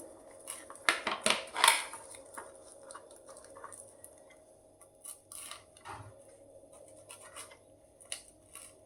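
A knife chops curry leaves finely on a board, giving a quick burst of sharp, close taps and scrapes early on, then scattered lighter cuts with quiet gaps between.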